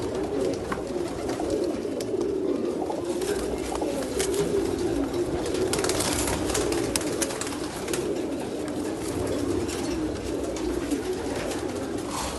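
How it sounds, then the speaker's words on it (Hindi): Pigeons, including an Arab pigeon, coo softly and repeatedly in low, murmuring bursts over a constant background hubbub. "ये अरब का कबूतर है।"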